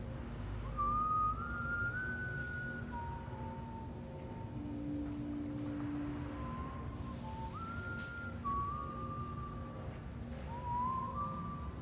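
A character in the video game Death Stranding 2 whistles a wandering melody of long sustained notes with pitch slides, set over a steady low in-game background hum, with no talk.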